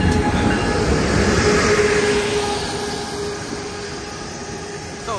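An Amtrak San Joaquin passenger train, delayed by mechanical problems, rolls into Richmond station with a loud rumble and clatter of wheels, thin metallic squeals rising over the noise before it gradually eases off.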